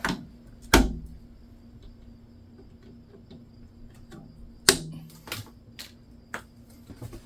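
Sharp snips as excess zip tie ends are cut off while reinstalling a Maxxair RV roof fan, a few isolated clicks spread apart, close and fairly loud against a quiet background.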